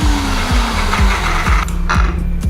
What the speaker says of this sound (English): The egg white is whipped really nicely.